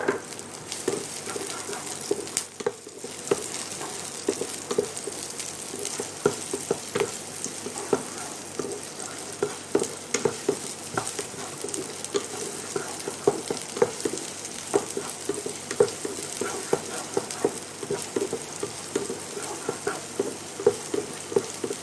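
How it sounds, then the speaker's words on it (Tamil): Garlic sautés in a pan. A soft, continuous sizzle and crackle runs throughout, with scattered sharper pops and light stirring scrapes, all fairly quiet and with no talking. "பூண்டு போட்டு ரொம்ப நேரம்லாம் வதக்கணும்"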